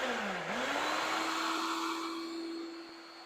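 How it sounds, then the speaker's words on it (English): A blender pureeing fire-roasted tomato salsa, a loud steady whirring motor that rises in pitch as it spins up, then holds a constant drone. "I'm going to just puree this"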